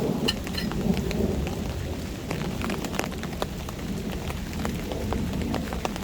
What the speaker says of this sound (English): Just thunder and rain and potentially high winds.